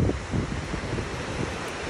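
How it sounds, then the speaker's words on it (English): Ocean waves washing onto a shore, a steady loud rush mixed with heavy wind buffeting the microphone, with no talking. "Could you hear the waves?"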